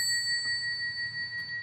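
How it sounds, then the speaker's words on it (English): A bell rung once rings out in clear high sustained tones that hang steadily and slowly decay, heard alone over quiet background hum. "Let's ring the bell real quick."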